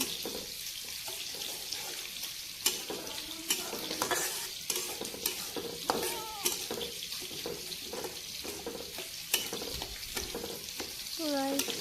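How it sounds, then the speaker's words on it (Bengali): Spices being sautéed in a pan while fish cooks alongside, scraping stirs and a soft sizzle, with light clinks and brief sounds from a nearby water tap. "এদিকে আমি মশলাগুলো ভুনকাছি ভুনা ভুনা করবো"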